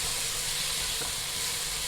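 Crab masala sizzles steadily in a pan while being sautéed with spices, a dense, close hiss that stays constant throughout.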